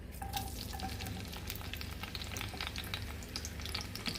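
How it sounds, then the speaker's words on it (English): Steady close sizzle of vegetables sautéing in hot oil in a pan, before blackfish goes in, with faint crackles and occasional stirring, continuous and even throughout with no talking. "Everybody is sauteing up nicely"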